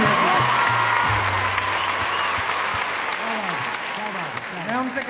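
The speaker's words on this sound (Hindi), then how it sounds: "एक बार दोनों हाथ उठा के तालियां बजाइए" Audience at a Hindi poetry gathering claps steadily and loudly throughout, a dense sustained applause with some voices mixed in.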